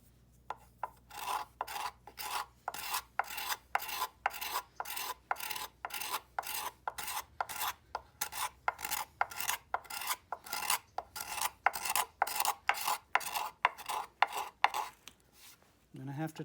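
Rhythmic rasping strokes of a steel scraper carving a large wooden spoon, about two per second, close and steady, with no talking.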